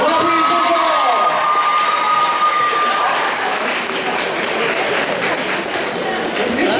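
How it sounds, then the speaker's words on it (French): Audience applause at a cosplay contest, sustained clapping and crowd noise from a large room, with a voice speaking over it near the start. "On applaudit trop fort!"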